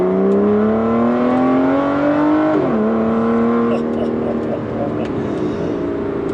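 Aston Martin V12 Vanquish S accelerating through a tunnel, its V12 engine rising in a loud, echoing howl, briefly dropping at a gear change, then climbing again before the revs ease off.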